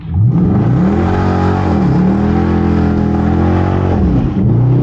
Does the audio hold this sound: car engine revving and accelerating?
yes